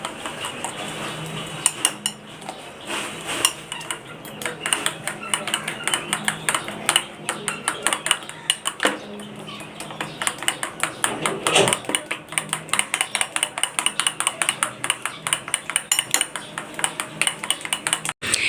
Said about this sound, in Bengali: 3টা ডিম নিয়েছি। এরপর সামান্য হলুদের গুঁড়া, মরিচের গুঁড়া, জিরার গুঁড়া, স্বাদ মতো লবণ মিশিয়ে নিচ্ছি।